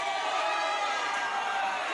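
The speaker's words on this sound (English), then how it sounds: "The crowd are making up their own count here." A wrestling crowd chants a count of its own in an arena, a dense, steady roar of many voices filling the whole moment without a break.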